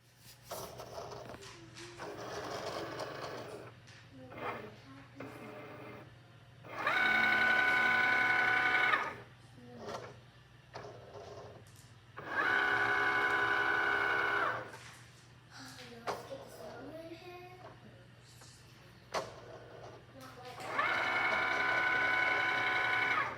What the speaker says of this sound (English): we're gonna cut this on the Cricut